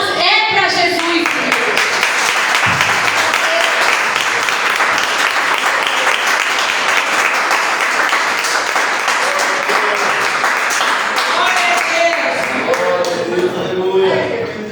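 Church congregation applauding during a live Pentecostal-style service: sustained dense clapping from many hands fills the room for the whole stretch, with scattered voices mixed underneath.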